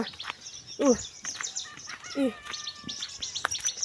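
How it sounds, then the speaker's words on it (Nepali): Birds chirping in a countryside setting, with a few short, bright calls and tweets scattered over several seconds, some fairly close and others farther off, against a quiet background. "यहाँ चाहिँ कस्तो मजाको चराचुरुङ्गीको आवाज आइरहेछ"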